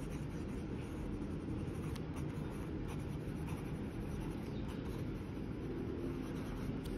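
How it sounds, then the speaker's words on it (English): Lamy Safari fountain pen with a fine nib scratching across paper, a soft continuous scrawl with faint strokes and taps over a low, steady background rumble. "Contohnya macam tulis ni"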